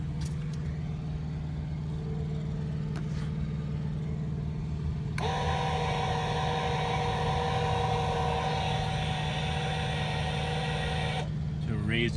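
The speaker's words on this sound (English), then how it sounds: "So raise the tongue jack up a good bit." An electric tongue jack motor raises the hitch of a 2018 Forest River Vibe 308BHS travel trailer, a steady whirring drone that rises in pitch and grows louder partway through over constant engine-like rumble, then cuts off near the end.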